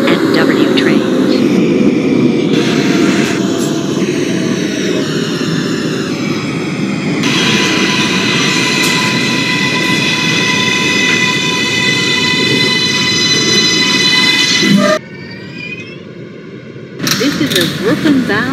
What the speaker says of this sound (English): This is a Brooklyn-bound J Skip Stop train.